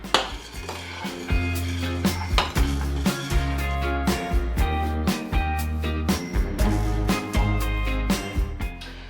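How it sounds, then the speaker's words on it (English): Oatmeal cooking on low heat in a pot, stirred with a utensil that knocks against the pot in a steady rhythm of close, repeated clinks and scrapes. "I'm just gonna keep stirring it."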